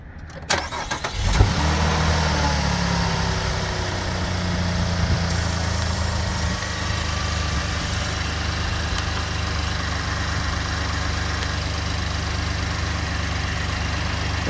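A 2019 Chevy Colorado ZR2's 3.6 V6 engine cranks briefly and catches, then settles into a steady, loud, rumbling idle that runs on without a break.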